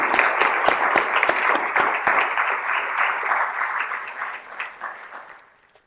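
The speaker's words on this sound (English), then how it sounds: "I think that everyone up here on our panel deserves a round of applause." An audience at a public meeting applauds a panel, a dense round of clapping that holds steady for several seconds, then thins out and fades to quiet at the end.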